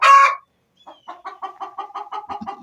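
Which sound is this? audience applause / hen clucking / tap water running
hen clucking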